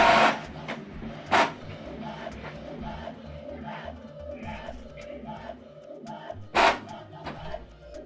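An Epson WF-2960 inkjet printer printing an alignment pattern page, with a steady mechanical whir and rattle of the print head and paper feed, broken by a few sharp louder bursts as the page advances.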